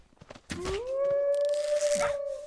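A dog in the survival game The Infected lets out a long, steady, rising howl that holds a clear pitch for about two seconds, loud and close, with a few short clicks and rustles just before it begins.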